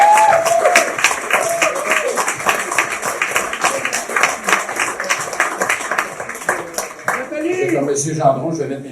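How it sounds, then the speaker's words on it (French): An audience applauds the candidates at an election-night gathering in Saint-Jérôme celebrating the mayor's win. The clapping is dense and sustained across the room, with voices mixed in that grow clearer near the end. "J'aimerais ça qu'on les applaudisse tous."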